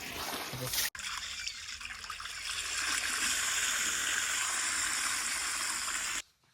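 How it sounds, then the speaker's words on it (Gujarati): Water fills a container at home in a steady, continuous trickling and gurgling stream that grows slightly fuller partway through, then cuts off abruptly at the end. "પાણી ભરવાનું ચાલુ થઈ ગયું અમારે."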